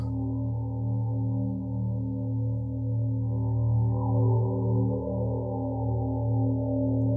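A sampled sound in Ableton Live is run through the Auto Filter to generate harmonics, producing a steady layered drone of stacked tones with a slow filter sweep rising through the middle, continuous and fairly quiet, with no talking.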